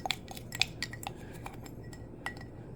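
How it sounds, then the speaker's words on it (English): A metal measuring spoon clinks against cutlery in a kitchen drawer while jerk chicken wing seasoning is prepared, a handful of bright, sharp metallic taps and rattles, close and fairly quiet, with no talking. "Let me get a measuring spoon."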